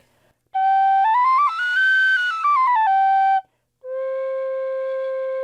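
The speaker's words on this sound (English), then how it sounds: "these are all soprano recorders" A soprano recorder plays a bright, breathy melody with a few sliding pitch changes, then holds one steady lower note after a brief pause.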